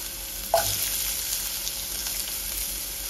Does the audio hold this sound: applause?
no